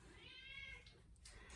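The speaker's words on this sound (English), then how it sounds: "My cats are fighting, so they can be a little bit vocal when they're doing that" Pet cats meow in a drawn-out, wavering cry while they fight, faint and somewhat distant in a quiet room, followed by a couple of brief scuffling noises.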